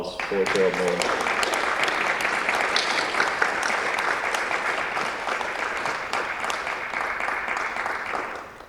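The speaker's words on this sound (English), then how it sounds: "Another round of applause for Gerald Mullin." A crowd applauds steadily for several seconds at a Legion of Honor induction ceremony, a dense wash of clapping. A voice is briefly heard at the start and the applause slowly eases toward the end.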